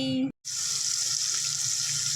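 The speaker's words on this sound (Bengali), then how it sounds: "কড়াই তেলও দিয়ে দিয়েছি তো চলো এবার ভাজাটা শুরু করে দেই" Fish dropped into hot oil in a wok sizzle loudly and steadily after a brief pause. The hiss stays close and continuous.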